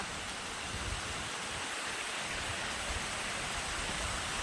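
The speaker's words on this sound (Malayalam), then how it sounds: "എൻ്റെ ഈ സൈഡിൽ കൂടെ വെള്ളം ഒഴുകുക." Water flows over rocks in a stream amid trees, a steady close rushing wash with no voices.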